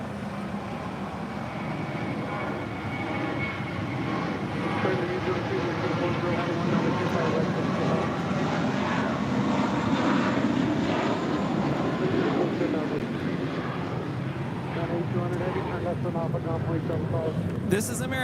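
An American Airlines Airbus A321 departing LAX on runway 25 left, its engines a broad, steady roar that swells slightly and holds throughout, heard from a distance with wind buffeting the microphone.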